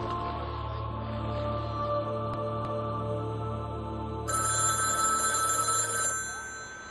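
A desk telephone in a video game rings in repeated electronic bursts, clear and steady with a brighter tone joining partway through, no speech over it.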